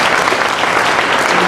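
Dense, steady applause from a large crowd at a Virginia energy grants press conference, loud and continuous throughout with no pauses.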